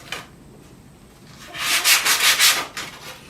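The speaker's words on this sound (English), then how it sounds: "So I'm going to sand him down a bit. Take my 120 grit sandpaper" Hand sanding a wooden part with 120 grit sandpaper, close up: a single scrape near the start, then a run of about five rhythmic, raspy back-and-forth strokes, fairly loud and with no talking.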